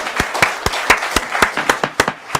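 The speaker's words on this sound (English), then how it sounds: "I know you want to show your appreciation, but please do not applaud." Audience members clap at a commission meeting, a short burst of close, sharp claps at an uneven rhythm that rings through the room, with no talking over it.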